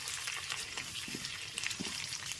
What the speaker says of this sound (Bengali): এরপর হাফ করে কেটে রাখা আলুগুলোকে দিয়ে দিচ্ছি।